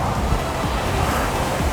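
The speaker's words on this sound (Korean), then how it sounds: "와, 바람 소리 들리세요?" Wind roars continuously outdoors, a close, rumbling rush of air with low buffeting throughout.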